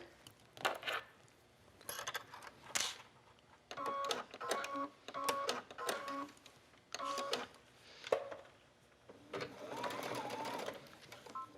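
A sewing machine runs a long straight basting stitch along a knit waistband on an A-line skirt, in several short bursts of rapid mechanical whirring and clatter separated by brief pauses, close and fairly loud.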